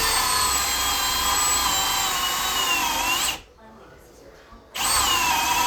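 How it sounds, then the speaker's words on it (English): A power drill bores a hole through wood with a drill bit during a knee wall door build. Its high whine runs loud and close, cuts off for over a second, then resumes at full speed. "before I go all the way through with the drill bit"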